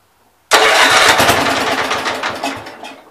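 A 1970 All White 408 tractor engine starts abruptly with a loud rough burst and runs for a few seconds, the roar gradually fading, close to the mic.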